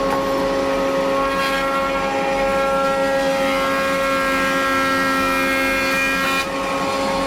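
A steady, loud mechanical whine with strong sustained tonal hum from a Grizzly G0815 benchtop thickness planer cutting wood, continuous with no talking.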